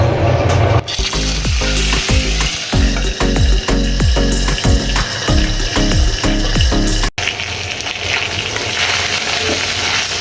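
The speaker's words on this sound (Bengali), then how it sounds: "চুলায় আমি যে মাছটা ভাজতে দিয়েছি" A piece of rohu fish fries in a pan, a loud close crackling sizzle broken by a rapid run of sharp clatters and scrapes for several seconds, then a brief drop before the steady frying carries on alone.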